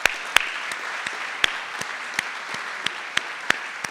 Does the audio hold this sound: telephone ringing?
no